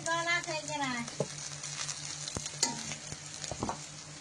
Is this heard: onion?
yes